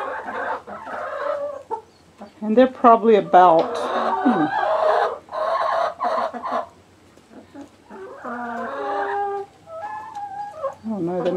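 Chickens cluck and squawk close by in bursts, several birds overlapping, with a person briefly speaking among them.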